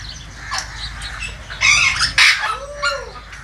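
Birds squawk and call in a private aviary, a few harsh bursts in a row followed by a short rising-falling whistle, close and moderately loud with no talking.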